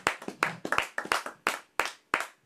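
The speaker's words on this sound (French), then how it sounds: "Acclamons Dieu pour sa parole." Scattered claps from a church congregation land as sharp, separate hits in an uneven rhythm, a small group rather than a full ovation.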